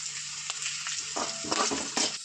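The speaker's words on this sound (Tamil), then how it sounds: "பொடிசாக கட் பண்ண இஞ்சியும் கொஞ்சமாக பூண்டு எல்லாம் பொடிசாக கட் பண்ணி சேர்த்துக்கிறேன் நல்லா செவந்து வரணும்" Chopped ginger and garlic sizzle steadily in hot oil in a kadai, a continuous close frying hiss with a few brief stirring bursts, no talk.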